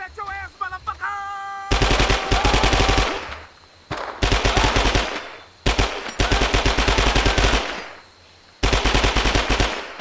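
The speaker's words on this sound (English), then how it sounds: "PPSH is a beast in this game" PPSh submachine gun in the Vietnam war video game Men of Valor, firing loud rapid automatic bursts, five long strings of shots separated by short pauses, with a brief tonal sound before the first burst.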